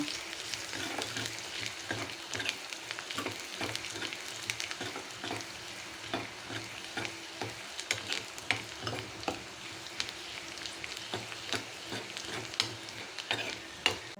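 Fenugreek and dried red chilies tempering in hot oil for a sardine (mathi meen) curry give a steady, close sizzle, with frequent light scrapes and clicks from stirring throughout.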